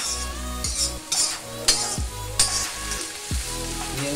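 Onions fry in a pan for a masala base with capsicum and soya chunks, a continuous close sizzle and hiss broken by several scraping stirs and light clinks of a spatula against the pan, with no voices.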